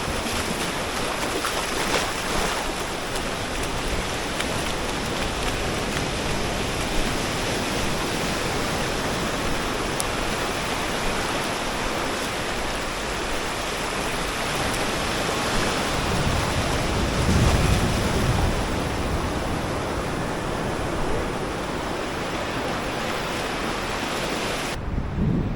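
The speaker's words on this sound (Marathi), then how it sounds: "आणि हा सुंदर समुद्रकिनारा" Sea waves on the beach at Kunkeshwar, Devgad, as a continuous broad roar of surf with wind buffeting the microphone and a slightly stronger swell wash around the middle, no voices.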